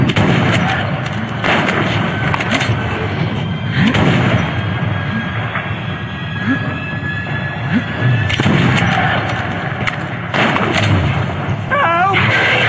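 Shotgun fire in a first-person shooter game, with heavy repeated booms spaced a couple of seconds apart over constant loud game noise and shouting voices.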